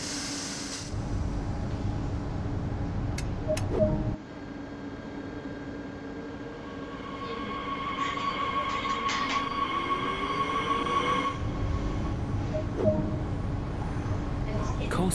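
A DB Regio electric train in the Train Sim World 2 game starts to move, with a steady, close motor hum and rumble under a rising whine, a few faint clicks and a short squeal, and a voice talking early on.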